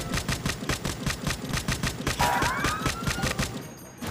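Rapid automatic gunfire in the Grand Criminal Online video game, a fast regular burst of sharp shots that continues for several seconds, briefly joined by a rising siren-like tone.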